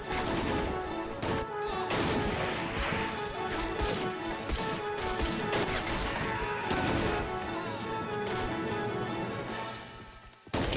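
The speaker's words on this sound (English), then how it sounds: "Taking heavy fire from the trenches now." Continuous battle sound effects of crackling gunfire, bangs and crashes staged around toy army men on a Hornby model railway layout, dense and loud throughout with no pauses.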